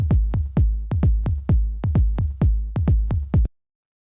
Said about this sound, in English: the next thing I have here is this little tom sound, which I'm going to play with the kick so you can hear the groove.